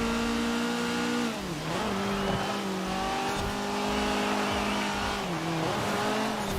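GT70 rally car in Forza Horizon 4, a rear-wheel-drive mid-engine A Class build, its engine droning steadily with rising and falling revs through gear changes and brief tire noise, loud and continuous with no talk.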